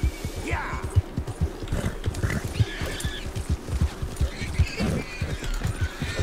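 Hooves of a horse pounding along in Red Dead Redemption 2, a steady rapid beat of close, loud thuds running from start to finish alongside game sounds and brief cries.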